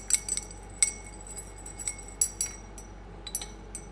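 Glass rod stirring unreacted black powder in a glass beaker, giving light irregular clinks and taps against the glass, faint and close in a quiet room.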